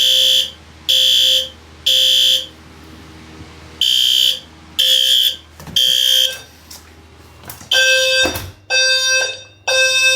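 A fire alarm taped over during testing in a garage blares in loud, regular bursts, pausing briefly between each shrill electronic tone, with a few clicks and thumps around it.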